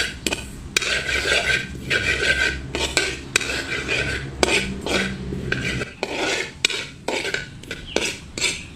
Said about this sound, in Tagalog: Ang sunod nating gawin ay itusta itong sesame seeds o linga hanggang sa mag-slight brown ito.